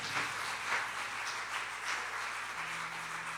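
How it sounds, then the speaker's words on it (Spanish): A church congregation claps for Jesus during a sermon, a steady, moderately loud wash of many hands that holds evenly throughout. "Denle fuerte el aplauso a Jesús."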